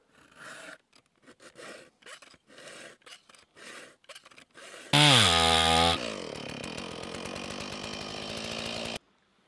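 A hand saw cuts through wood in the shop while an axe is being made, first in short rhythmic strokes, then a louder, steadier grinding stretch, close up with no talking.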